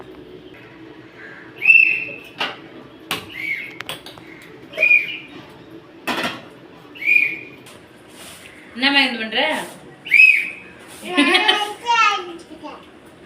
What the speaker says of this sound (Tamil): விசில் அடிக்கிறியா?